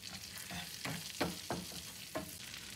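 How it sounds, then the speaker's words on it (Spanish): Onion with garlic and ground pepper frying in a pan, a steady close sizzle with a few sharper crackles and stirring scrapes throughout. "vamos a esperar hasta que la cebolla se cocine un poquito"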